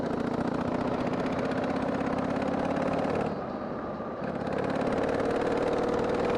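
Harley-Davidson Sportster 883 motorcycle engine running steadily and loudly close by while riding in wet weather, a continuous throaty drone that dips briefly midway before swelling back.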